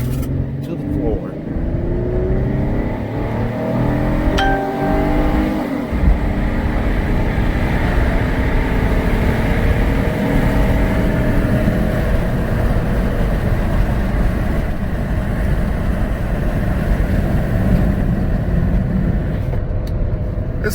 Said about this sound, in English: This little 3-liter Duratec is a strong little engine.